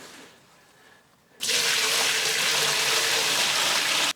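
Hot water pours into a Vevor ultrasonic cleaner tank with a mesh basket, starting as a quiet trickle and then becoming a steady, loud, close gush that fills the tank without pause.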